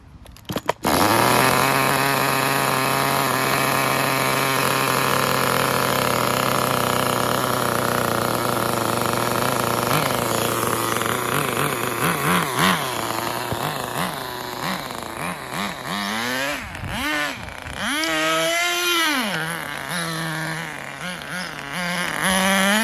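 A nitro RC car on a Tamiya TGSR chassis, fitted with a homemade engine, fires up and runs loud and close with a high buzzing whine. The pitch holds steady and then swoops up and down in revs toward the end.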